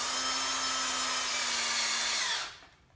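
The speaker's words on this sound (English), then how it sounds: "You can screw it and drill it" Power drill boring into a biochar brick, a steady close whine with a constant tone for over two seconds before stopping and fading out.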